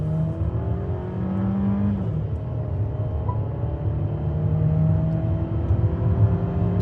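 A Mercedes GLA 200 in sport mode pulls from a standstill toward 100, its engine note climbing steadily in rising sweeps through gear changes, a continuous close whir and drone heard from inside the car.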